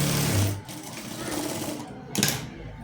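A sewing machine stitches a blouse with a steady, close mechanical whir that runs throughout, briefly swelling near the end, while a voice is faintly present underneath.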